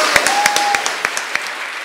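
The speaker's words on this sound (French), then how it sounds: "une simple gerbe de fleurs et des applaudissements" Brief burst of audience applause at an awards gala, dense, even clapping from a crowd across the whole short stretch, with a few sharper individual claps standing out.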